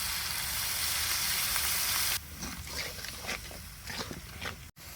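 Ground spices with salt, cumin, coriander, ginger, turmeric and chili frying for a country-chicken curry, a loud dense sizzle for two seconds that drops to softer crackling and stirring, a brief gap near the end.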